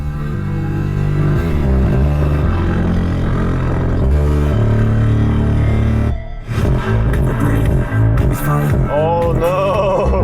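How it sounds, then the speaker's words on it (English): Music plays loudly through the factory speakers of a 2022 Suzuki Jimny GLX with automatic transmission, a full, bass-heavy track with continuous tones that briefly dips midway before resuming. "And this is the sound of the speakers."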